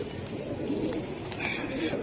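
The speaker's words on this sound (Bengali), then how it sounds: "কবুতর প্রচুর আজকে" Pigeons coo steadily at a pigeon market selling breeds such as Gorra, Kaldom and Giribaz, with soft repeated calls mixed into background chatter and people talking nearby.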